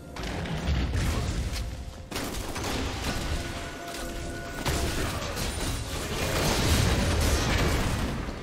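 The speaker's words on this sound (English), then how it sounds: "His turret has been destroyed." Turret destroyed in League of Legends, heard as a dense stretch of booming crashes and crackling bursts amid busy game effects, loud and sustained throughout.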